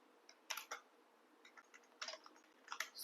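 Computer keyboard typing TypeScript code in an IDE: several short bursts of crisp key clicks with brief pauses between them, close and fairly quiet, with no voices.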